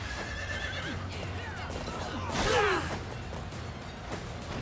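A horse whinnies loudly in a rising, wavering call, with hoof clops and a whoosh around it against a busy game-like background in Fire Emblem: Three Houses.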